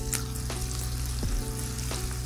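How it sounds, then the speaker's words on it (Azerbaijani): Sliced onions sizzle and fry in a pan, a steady crackling hiss with a few sharper spits and stirring scrapes, close and continuous with no talking. "Soğanlarımızı ilk önce kızardıram."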